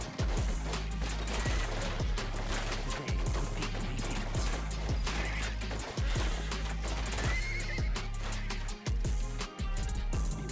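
Horses neigh and whinny repeatedly amid clip-clopping hooves and clashing battle noise in a zombie-siege strategy game, horse archers riding out, the whole scene loud and dense with no pause.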